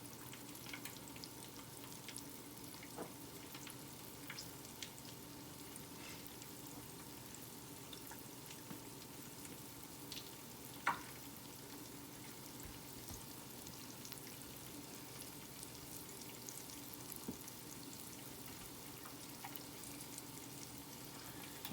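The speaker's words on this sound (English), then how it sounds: "I just filleted them, and I'm gonna fry them up too" Catfish fillets frying in hot oil, giving a steady, even sizzle that runs throughout with a few small pops and crackles, close and fairly quiet.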